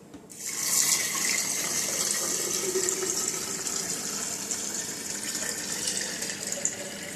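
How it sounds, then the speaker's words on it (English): Tap water gushes steadily into a container of mung beans, a continuous bright splashing rush that starts suddenly and keeps filling for several seconds, close and moderately loud with no voices. "And then we're going to fill it up with water."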